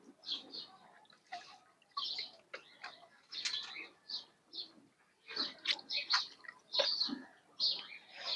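Pigeons kept in a loft during hot summer weather give soft, intermittent coos and chirps, fairly quiet and scattered, with no talking.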